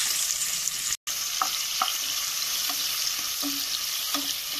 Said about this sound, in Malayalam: എണ്ണയിൽ നമുക്ക് സവാള ഒന്ന് പൊരിച്ചെടുക്കണം